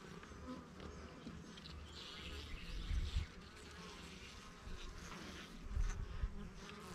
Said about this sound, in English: in case y'all see a lot of bees coming over here or whatever,